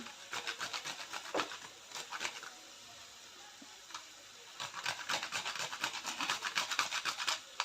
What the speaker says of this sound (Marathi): आणि जायफळ किसून घालते